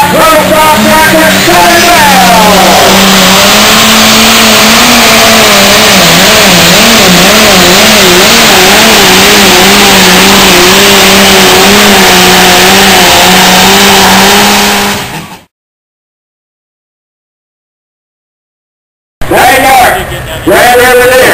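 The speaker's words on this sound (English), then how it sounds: "We're going to talk about a whole lot of high horsepower diesel" A high-horsepower outlaw diesel tractor at a pulling event roars loud and close, its revs climbing and wavering for about fifteen seconds before a brief cutoff, then the engine returns.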